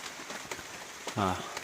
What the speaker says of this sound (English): It's raining pretty good outside.